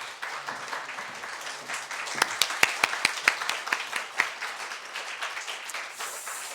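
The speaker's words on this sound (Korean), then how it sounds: "박수 한번 쳐주시기 바랍니다." A church congregation applauds during a Sunday morning service, a crowd of clapping with a few sharp, distinct claps standing out midway before the applause thins.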